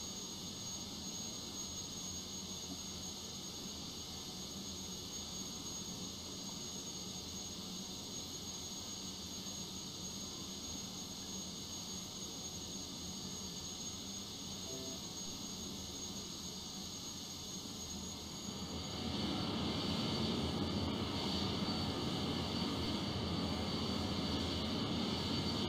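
Jet airliner engines in a flight simulator game during pushback toward the taxiway hold a steady roar with a high whine throughout. The roar swells noticeably louder near the end.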